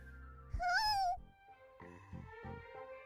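A yellow cat in a video game gives one clear, wavering meow near the start, with soft game sounds and faint rhythmic tones continuing afterward.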